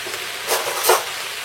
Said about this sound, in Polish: ja już smażę te warzywa teraz